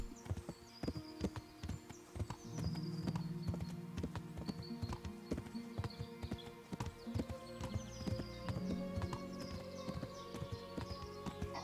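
A horse gallops in the medieval video game Kingdom Come: Deliverance, rapid rhythmic hoofbeats pounding steadily and close, with creaking tack, a brief whinny, and a faint ambient music bed.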